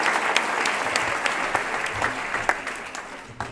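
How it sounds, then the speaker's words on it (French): Audience applause at an ADS award ceremony in Saint-Pierre-de-la-Mer, a steady wash of clapping from a crowd that holds evenly throughout with no voices over it. "Donc le maire de Saint-Cyprien, vous pouvez l'applaudir."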